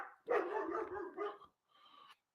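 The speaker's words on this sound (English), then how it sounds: "Hopefully y'all can't hear the dog barking in the back" A dog barks in the background of a house, giving a couple of drawn-out, rough barks followed by a shorter whining yelp, heard clearly and at moderate loudness with no talking.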